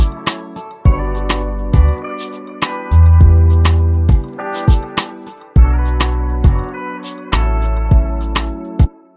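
A Subby Bass preset from Logic Pro X plays a deep afrobeat bassline, with a full beat of chords and drums on top. Sustained low notes come in phrases and pause now and then. Loud and close, with no voices.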